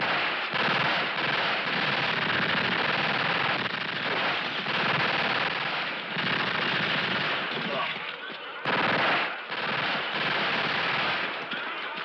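Machine gun fire from a 1971 western film rattles in long, dense, loud bursts with only short gaps between them, sustained across the whole stretch.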